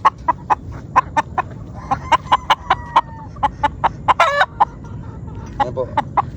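A Maclean street-breed gamefowl rooster clucks close by in short, loud, repeated calls with a brief squawk partway through, while other farm sounds sit faintly in the background.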